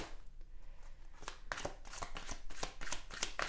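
Oracle cards being shuffled by hand, a close series of quick crisp riffling bursts in rhythm, growing louder toward the end.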